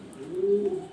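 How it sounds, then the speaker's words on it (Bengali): A black Danish exhibition pigeon gives a single soft, close coo that swells and fades within a second. "ব্ল্যাক কালার ড্যানিশ কবুতর"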